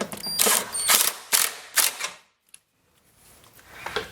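Ratchet clicking a 13mm deep socket on a truck battery hold-down in a Chevrolet Colorado ZR2 engine bay: several close, loud bursts of quick ratcheting clicks over about two seconds, then near silence with faint handling noises.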